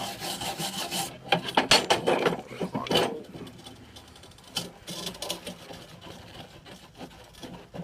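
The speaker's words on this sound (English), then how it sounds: "A little more wire brush action." A wire brush scrubs to unclog holes and clear out remnants, making close, rough raspy strokes in uneven bursts, loud at first and then quieter and more intermittent.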